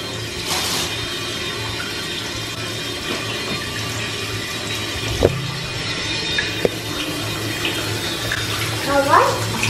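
Water runs steadily from a tap into a bathtub being filled for a home water birth, a constant rushing wash with a few small knocks and someone speaking over it.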